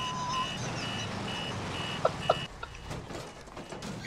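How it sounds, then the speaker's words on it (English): A car in a video game beeps in short repeated tones, fairly loud over engine and game noise, before a couple of sharp knocks break in. "I blew one of them up and the car started beeping at me."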